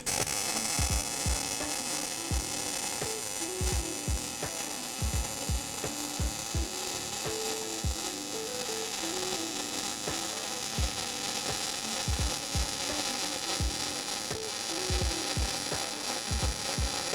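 A welding bead being laid in a lab produces a continuous crackling hiss with a steady electrical buzz and irregular sharp pops throughout, close and unbroken.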